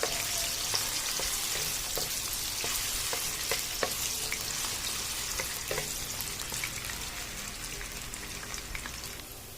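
Potatoes sizzle and crackle steadily in a hot frying pan, with scattered pops and occasional stirring scrapes, heard up close with no talking.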